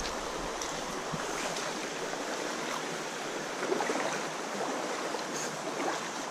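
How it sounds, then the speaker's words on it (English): A creek flows steadily with a soft, even rushing and babbling, a constant broadband wash with no breaks, heard outdoors alone. "This is a nice creek."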